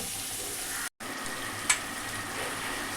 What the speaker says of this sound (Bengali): দেখছো মশলা কষাতে কষাতে কি সুন্দর তেল বেরিয়ে এসছে